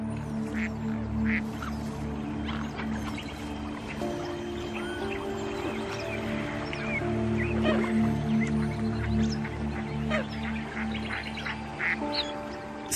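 A duck quacks amid snowy Arctic wildlife surroundings, short nasal calls recurring irregularly over a steady low background hum, fairly close and clear, with no voices.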